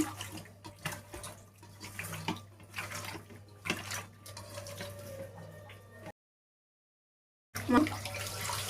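Water running from a tap while fish pieces are washed for an Andhra-style fish curry, a close, steady splashing stream that cuts off abruptly, then resumes after a silent gap.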